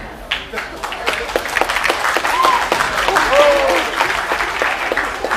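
Audience applause at a live music show, a dense steady wash of clapping that swells slightly and is layered with whistles and scattered cheers.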